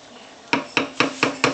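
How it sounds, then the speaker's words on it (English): Rice being stirred in a hot pan: five sharp scraping knocks of a utensil against the pan, evenly spaced and close, over a faint background hiss, with no talk. "So I'm mixing it so I can feel all the rice not sticking to the bottom of the pan."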